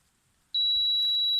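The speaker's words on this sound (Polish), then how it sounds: "Mam ze sobą wykrywacz, taki niewielkich gabarytów." A small handheld metal detector, searching the ground near an old Bismarck tower, gives one sudden steady high-pitched beep that starts abruptly and holds loud and unbroken to the end.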